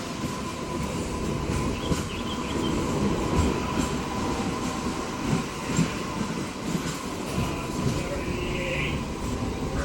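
A MEMU passenger train pulls out of Devarakadra station after a one-minute halt, heard from on board as a steady rumble with rhythmic wheel clatter and occasional squeal; voices murmur faintly in the carriage.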